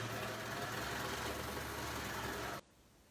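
A serger sewing machine runs steadily at speed, a close, even motor whir that sews out the threads for about two and a half seconds and then stops abruptly.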